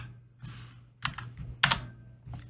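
Keystrokes on a computer keyboard, heard as a few quick bursts of clicks spread across a couple of seconds over a low steady hum, close and fairly quiet, with no talking.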